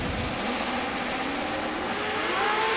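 Muscle cars drag racing at an NMCA Muscle Car Mayhem final round, a Corvette among them, make a loud, continuous close engine roar that swells slightly toward the end, with no voices.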